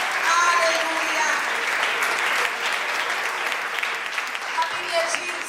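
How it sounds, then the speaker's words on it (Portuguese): Sustained audience applause fills a church at a youth retreat service, a dense, even wash of clapping from many hands with a few voices mixed in. "Aplauda aquele que é digno"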